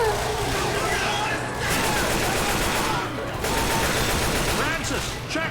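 Sustained gunfire in the co-op zombie shooter Left 4 Dead, a dense, continuous rattle of automatic weapons across the clip with brief dips, heard alongside game voices and speech.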